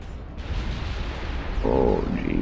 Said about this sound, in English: All that gunfire.